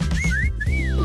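A person whistles a short rising and falling tune, a few clear notes close by over a low background hum.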